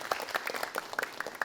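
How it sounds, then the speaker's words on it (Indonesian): A short burst of scattered clapping from a small audience at a children's preaching competition, light, uneven claps with distinct individual hand strikes, fairly faint. "berikan tepuk tangan untuk ananda kita Altofun Nisa"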